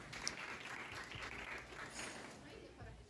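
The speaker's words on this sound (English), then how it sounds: "Please clap to Rafah to the both of Farahs" Classroom applause for students at a Grade 7 science lesson, a steady wash of many hands clapping together for about three seconds, fairly quiet and diffuse with faint voices mixed in.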